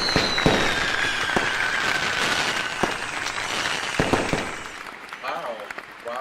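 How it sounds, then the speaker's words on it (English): Fireworks go off in a string of sharp bangs and crackles over several seconds, with a whistling rise and a background hum from a live online show. "Those fireworks were amazing"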